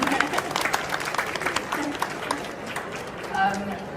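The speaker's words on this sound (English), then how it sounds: "I think we should have a round of applause at this stage for them." An audience at a London Book Fair disability briefing event applauds the BSL interpreters, scattered clapping of moderate loudness mixed with crowd murmur and voices talking over it.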